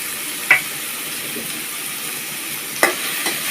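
Chopped onion and garlic sizzle steadily in a pan while a spatula scrapes and clinks against it twice in sharp strokes, with a softer knock near the end, close by and free of speech.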